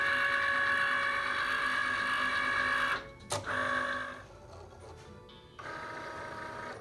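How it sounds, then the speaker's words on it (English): A Cricut cutting machine scans a document before cutting, giving a steady mechanical whir and buzz that cuts off sharply with a click, then resumes as a quieter hum. "now we can hit this Cricut button here, and it will begin scanning and doing our cuts here"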